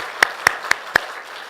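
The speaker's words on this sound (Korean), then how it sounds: "우리 감사의 박수로 하나님께 올려드립니다" Four loud, distinct claps ring out in church at a slow, even beat, with a quiet room in between.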